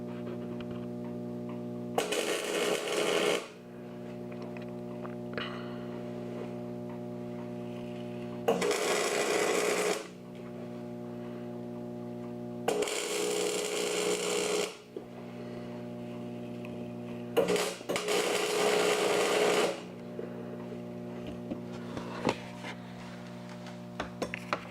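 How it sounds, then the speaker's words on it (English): Four separate crackling bursts of tack welding, each lasting one to two seconds, fix a bumper onto a 2001 Chevy 2500HD. A steady low hum runs between the bursts. "I'm going to put about 3 or 4 tack welds on it here in different locations."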